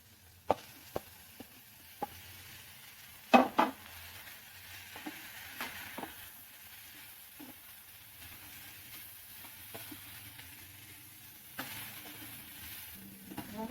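Soft sizzling hiss of bottle gourd and tomatoes frying in a pan for vegetable chutney, with occasional clinks and scrapes of a spatula stirring, fairly quiet throughout.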